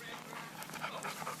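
A dog panting close by at a hunting outing, quick breathy rhythmic pants with a faint whimper, low in level under background noise.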